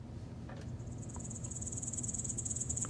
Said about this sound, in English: Grasshopper and all, locust.